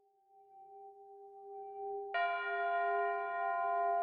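Catalina Chimes tower bells, in a tower built in 1925, ring out with a sustained steady tone that swells into a louder, richer chord partway through and keeps resonating to the end.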